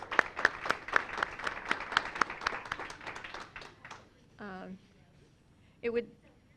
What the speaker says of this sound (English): shall we give our awardees another round of appreciation, applause?